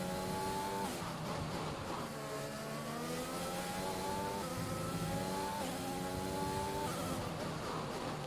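Formula 1 car engine from the F1 2021 racing game at Melbourne, a loud, continuous high-pitched whine with rising and falling revs through gear changes, heard alone with no talk.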